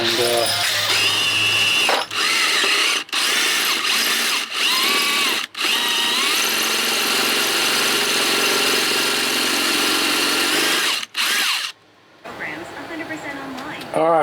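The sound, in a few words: drilling out a hole in metal hub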